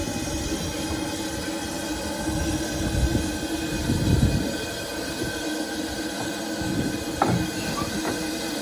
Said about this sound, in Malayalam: അപ്പോൾ നമ്മൾ സ്റ്റീം ട്രെയിനിൽ തിരിച്ച് നമ്മുടെ കയറിയ സ്ഥലത്തേക്ക് പോവുകയാണ്